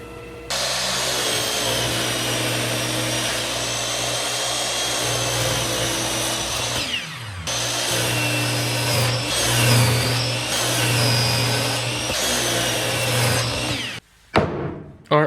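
A wood planer machines a square board for coffee table legs, a loud, steady motorized roar with a low hum that runs for about thirteen seconds, drops briefly midway, then cuts off near the end.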